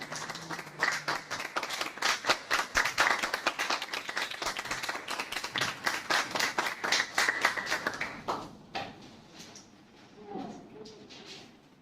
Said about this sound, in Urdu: میں آپ کے زوردار تالیوں کے ساتھ خدا کے خادم پاسٹر منور بھٹی صاحب کو دعوت دیتا ہوں